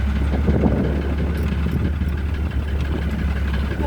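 A farm tractor's engine runs steadily at idle, a deep continuous rumble with vibration, close and fairly loud, with no talk over it.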